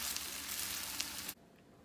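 Cooked rice is mixed into bacon frying in a pan, giving a close, dense sizzle with faint stirring scrapes that cuts off abruptly partway through, leaving quiet room tone.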